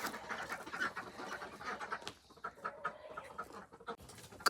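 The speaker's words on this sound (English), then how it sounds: "Good morning, Khaki Campbells. Ready for a brand new day?" Khaki Campbell ducks on a homestead in the morning, quacking and chattering nearby in an uneven stream of calls, fairly quiet, with no speech.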